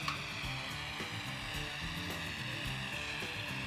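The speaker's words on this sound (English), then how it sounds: "I'm going to move the flame over the whole piece to heat it quickly" A big bushy torch flame heating enamel on a copper piece, a steady close-up roar and hiss with a slight uneven flutter throughout.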